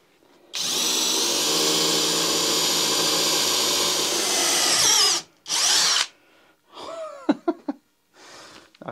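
A Parkside Performance PBSPA 12 C3 cordless drill driver runs at higher speed, a loud steady whine for about five seconds, then a brief second burst and scattered lower buzzing and clicks.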